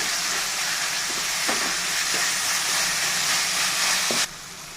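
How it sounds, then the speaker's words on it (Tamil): Ginger garlic paste sautés in a pan with tomatoes for a Tamil cauliflower curry, giving a steady close hiss and sizzle with a few light scraping taps before it cuts off abruptly near the end. "இஞ்சி பூண்டு பச்சை வாசனை போகிற லைட்டாக வதக்கிக்கோங்க."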